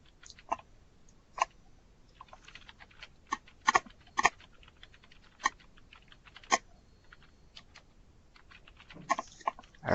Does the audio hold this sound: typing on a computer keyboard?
yes